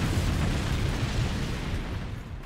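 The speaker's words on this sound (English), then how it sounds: "massive explosion again" A loud, heavy blast in the strategy video game Command & Conquer Generals Zero Hour, a broad booming roar that starts at full force and slowly rolls off over about two seconds.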